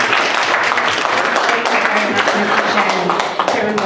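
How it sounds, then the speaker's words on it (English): An audience applauds a deputy commissioner at a public jobs event, with steady dense clapping from many hands through the whole stretch, fairly close and loud. "let's give a round of applause"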